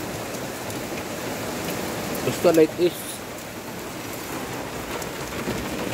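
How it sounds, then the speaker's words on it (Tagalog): Heavy rain falls steadily outside as a dense wash of noise throughout, with a person speaking briefly over it midway. "Ang hirap magawa, ang lakas ng ulan sa labas oh."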